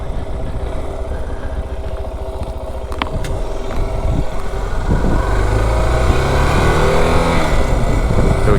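Suzuki DR 650 single-cylinder motorcycle climbing a dirt road, its engine note steady and close with rising revs toward the end, wind and road noise mixed in and no talk.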